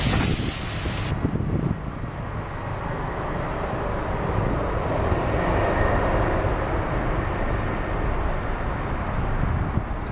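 Airliner landing at Seattle airport, a steady, loud broadband roar of jet engines and rushing air sustained throughout, mixed with wind buffeting on the microphone, no talk.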